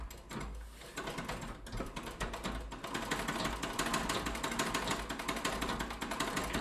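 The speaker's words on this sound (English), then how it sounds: "I'll pedal a few times now to show what happens when the rod is overly restricted within this joint." A treadle sewing machine with an over-tight pitman rod is pedaled, giving a close, rapid mechanical clatter of repeated knocks and rattles that grows a little louder and continues throughout.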